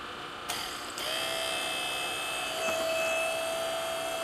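A restored car A/C condenser fan motor from a Buick turbo build clicks on, powered by a 12-volt DC pack, and settles into a steady whirring hum with a thin whine, running close and alone.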